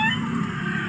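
A short, clear meow from a cat outdoors on a trail break, loud and close over a steady background hiss.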